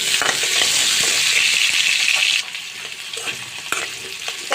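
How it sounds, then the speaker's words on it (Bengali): Potatoes frying in hot oil left over from frying fish, a steady loud sizzle that drops to a softer crackle partway through, with occasional stirring clatter and no talking. "তো আমি ওই তেলেতে আমি আলুগুলো ভেজে নিব"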